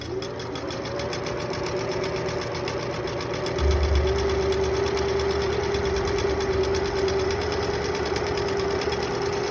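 Sewing machine stitching along the edge of a fabric mask with a thin nose wire sewn into the fold, a fast steady mechanical whir with a humming tone, close and continuous, growing slightly heavier partway through.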